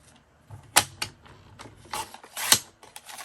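Paper for a small accordion folder file is trimmed with a cutting tool in a handful of sharp snips and clicks, close and irregular, with quiet pauses between cuts and no talk.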